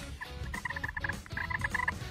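A hand-operated turkey call imitates a turkey's soft purr, a quick fluttering series of chirpy notes over low background noise, lasting about two seconds.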